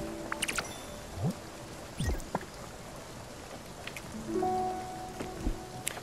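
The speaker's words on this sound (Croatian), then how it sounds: "Malo onako pada kišica pa je deprica." Light rain patters softly in the video game Spiritfarer, a faint steady hiss broken by a few brief game tones and chimes, with no talking.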